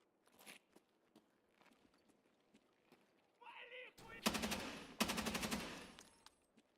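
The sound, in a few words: gunfire in the video game Escape from Tarkov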